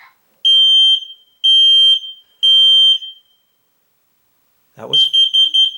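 A Kidde hard-wired 10-year smoke alarm gives its fire alert: three loud, piercing electronic beeps in an even rhythm, a short pause with a brief voice, then the beeping pattern starts again.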